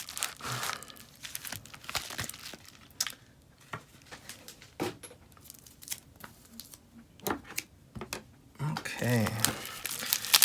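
Packing tape is torn and peeled off a mail package, with crinkling and ripping bursts in short irregular pulls while someone talks at close range.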